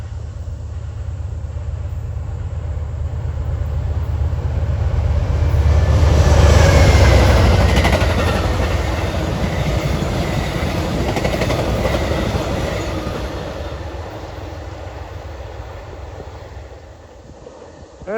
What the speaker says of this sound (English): Here comes Amtrak 42, the Pennsylvanian, from Pittsburgh to Philadelphia.